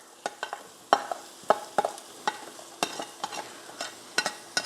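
Ginger frying and being stirred in a pan for arroz caldo, a Philippine rice porridge: sharp scraping clicks of a utensil recur in an irregular rhythm over a soft, steady sizzle, close and moderately loud, with no voices.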